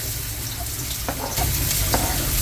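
Garlic and onion sautéing in a pan, a steady close sizzle with a couple of sharp stirring scrapes partway through, no voices over it.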